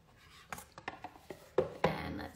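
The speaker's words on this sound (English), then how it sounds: "let me shuffle these affirmation cards and pick one" A deck of affirmation cards is shuffled close by, giving a short series of soft riffling taps and slaps, a few sharper snaps toward the end, all fairly quiet.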